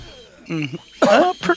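Two short, rough coughs close to the microphone, separated by a brief pause.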